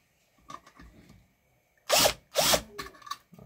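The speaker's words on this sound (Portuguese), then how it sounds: "Eu vou tirar esse parafuso aqui." A power drill backs a screw out of a Fun Kitchen pressure cooker in two short, close whirring bursts, with faint handling clicks before and after.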